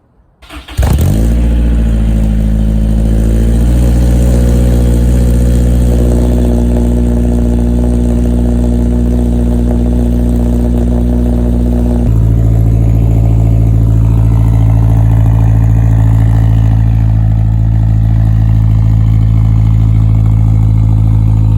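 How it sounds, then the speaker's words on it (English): A Honda S2000 fitted with a straight pipe exhaust cold starts up close: a short starter crank catches into a loud, raspy, steady idle that holds for about twenty seconds, its tone shifting once partway through, with no talking. "I'm gonna go ahead and show you guys a cold start"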